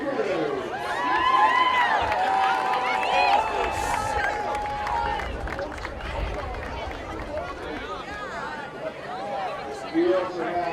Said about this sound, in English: Round of applause for Pete Sino with their director Gino.